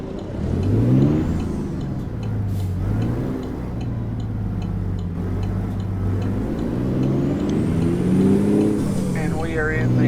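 A Kenworth W900 truck in American Truck Simulator drives with a steady low engine drone that rises and falls with gear changes and revving, joined by a soft ticking indicator and a short navigation-style voice near the end.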